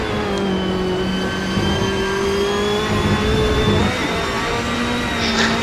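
Video-game Chevy Corvette and Ferrari GT race cars lap Spa, their engines holding a steady, sustained mid-pitched drone with tonal whine throughout, no voices over it.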